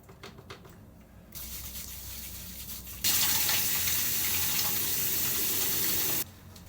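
Water runs from a tap into a bathroom sink during a morning face wash. The flow comes on softly, then turns into a loud, steady gush for several seconds before shutting off. No one speaks.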